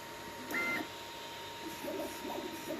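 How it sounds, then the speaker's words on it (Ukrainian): 3D printer at work on a test strip, a steady hum with a brief high tone near the start and soft repeated motor whirs later, fairly faint and without talk. "Зараз принтер друкує тестову смужку, а потім починає друкувати кораблік бенчі."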